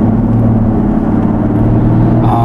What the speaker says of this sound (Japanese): なんかいい音がしますけど、ディーゼルってこういう音がするんですね。